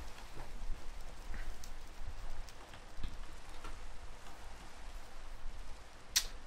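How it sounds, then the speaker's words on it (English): Rain in a video game, a steady soft hiss of falling drops with scattered light ticks and a sharp click near the end, with no talk. "This is actually the first time it's ever rained in this area."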